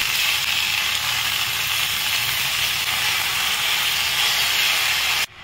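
Spinach and bori lentil dumplings sizzle in a pan over a lowered gas flame, a steady, dense hiss that holds evenly throughout before cutting off abruptly near the end.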